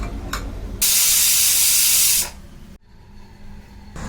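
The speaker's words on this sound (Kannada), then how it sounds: "ಇವಾಗ ಕುಕ್ಕರು ಕೂಗಿದೆ" A pressure cooker venting steam while cooking avare kaalu bele saru, a loud forceful hiss of about a second and a half with a brief faint puff before it, then a quiet kitchen.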